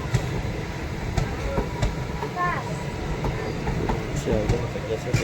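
The Kanchanjunga Express rumbles past on the line between Silchar and Haflong, a steady loud roar of wheels with rhythmic clicks, a brief whistle-like tone and voices talking over it.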